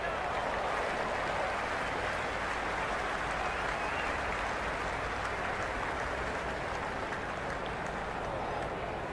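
A large cricket stadium crowd at an IPL match applauds and cheers a big hit, a dense, steady roar of clapping that stays loud and unbroken throughout.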